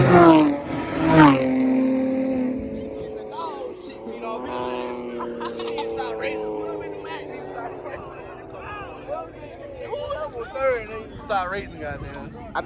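Cars revving hard and accelerating past at a street car meet, loud engine sweeps rising then fading, with excited voices and laughter throughout.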